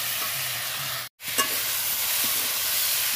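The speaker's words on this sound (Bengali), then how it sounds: "এবার আমি বেটে রাখা আদা জিরে দিয়ে দেবো, দিয়ে একটু ভালো করে কষিয়ে সামান্য জল দিয়ে ঢাকা দেবো।" Ground ginger and cumin paste sautéing with vegetables in a hot pan, a steady close sizzle and hiss with a brief cut to silence, then a soft stirring scrape before the frying resumes.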